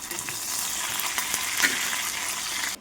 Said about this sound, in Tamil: தாளிக்க எண்ணெய் விட்டு கடுகு ஜீரகம் போட்டிருக்கேன்